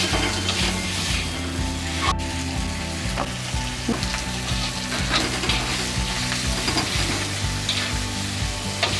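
Close, continuous sizzling of fried hilsa fish heads with spices in a pan, broken up by repeated stirring and scraping, with one sharp clack partway through.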